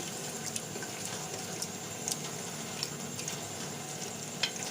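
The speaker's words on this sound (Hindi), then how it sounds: "इसे तकरीबन हम 10 मिनट तक इसे भूनेंगे।" Spices and arvi gosht stirred and frying in a pan, a soft steady sizzle with faint scraping clicks, quiet and close.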